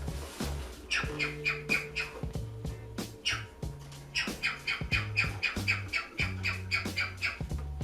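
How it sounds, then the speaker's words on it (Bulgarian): A pet parrot squawks and chirps in rapid, repeated bursts close by, over a low steady hum and faint indoor noise. "Имаме си компания от папагал и той се вълнува."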